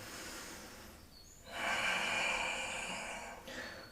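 Slow, audible breaths taken by a person during a yoga side stretch, a soft inhale rising after a quiet pause and continuing as a steady airy rush, close to the microphone with no talking.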